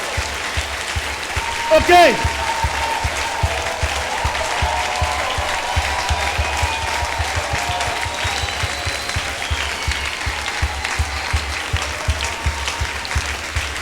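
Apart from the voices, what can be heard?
congregation applauding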